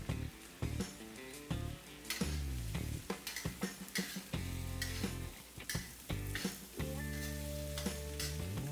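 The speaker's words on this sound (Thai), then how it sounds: "ผัดให้กุ้งโดนความร้อนสักครู่หนึ่งนะครับจนเริ่มเปลี่ยนสีนะครับ ก็ใส่เห็ดฟางลงไปได้เลยครับ" Shrimp and straw mushrooms stir-fry in a hot pan with a crackling sizzle, broken by repeated sharp clanks of a spatula against metal. Background music plays throughout.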